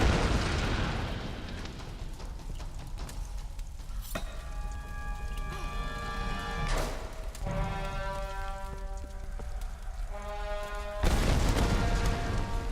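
Deep booming explosions rumble through a dense, noisy Tomb Raider game soundscape, with sharp blasts near the start and a heavier burst toward the end.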